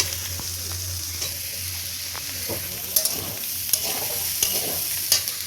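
Potatoes frying in oil in a clay-walled kitchen, a steady bright sizzle with a few sharp scraping clicks of a stirring spoon, close and continuous, with no talking.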